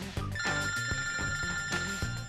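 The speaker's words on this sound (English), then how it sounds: "Ah, a phone call from AwayFind." A telephone rings with an incoming call, a repeated electronic bell-like ringtone with bright tonal pulses recurring in a steady rhythm, clear and close with no voices.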